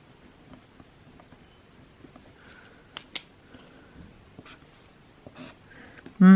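A pen scratches and taps across paper in short, quiet strokes with small clicks, close and intimate, ending in a sudden louder thump.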